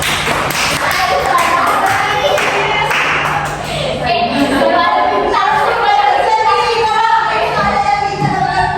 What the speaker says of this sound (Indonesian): Tepuk tangan buat Saiba.